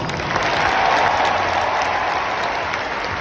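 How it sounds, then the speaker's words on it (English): A big arena crowd at Big Blue Madness, the University of Kentucky basketball event, applauds loudly and continuously, a thick unbroken wash of clapping and cheering. "please give them a round of applause"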